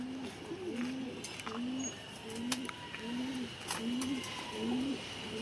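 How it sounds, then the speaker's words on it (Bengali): A racing pigeon coos close by in a regular series of low, rolling calls, about eight in a row, against faint background noise with no talking. "এই হচ্ছে একটা কবুতর"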